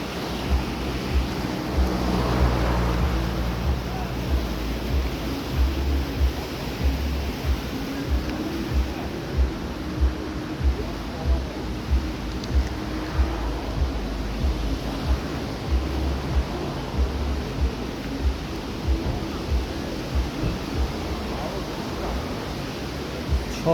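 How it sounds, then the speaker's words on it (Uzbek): A stream flows beside a roadside stop, a steady broad rushing that fills the whole stretch. Faint regular bumps and muffled voices sit underneath it. "Yonimizda soy mana."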